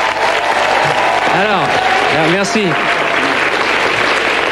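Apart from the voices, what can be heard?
studio audience applauding TV advertisements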